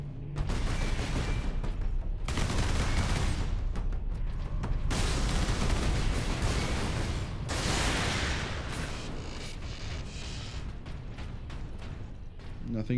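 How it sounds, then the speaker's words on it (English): Gunfire in Warhammer 40k Space Marine: heavy sustained volleys with booming impacts and mechanical clatter, loud and continuous across the scene, with brief pauses between bursts and voices speaking over the combat. "You wanna keep firing that Leandros?"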